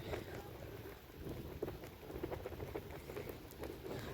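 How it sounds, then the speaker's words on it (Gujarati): Steady rain patters down continuously on a hilltop with a broad hiss and scattered drop impacts, moderately loud with no one speaking. "વરસાદ ગાઈસ પાછો ચાલુ થઈ ગયો છે"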